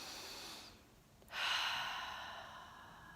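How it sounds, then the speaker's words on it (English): A single deep breath drawn in and then released, a soft, close airy inhale followed by a longer exhale, alone in a quiet room. "Take a deep breath."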